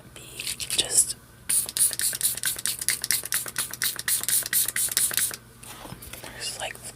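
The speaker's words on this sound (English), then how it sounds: "I'm just going to be using some of my Dalba Hydrated Radiant Skin double layer serum spray." Dalba Hydrated Radiant Skin double layer serum spray mists onto a face in a rapid series of soft, close pumps, a quick run of hissy bursts after an opening puff, with faint breathy sounds between.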